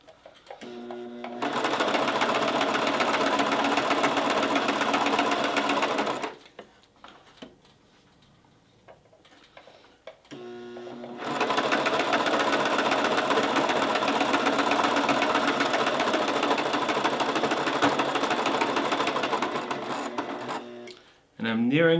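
Domestic sewing machine stitching a seam in two long runs of steady, rapid mechanical chatter, separated by a short pause, close and fairly loud.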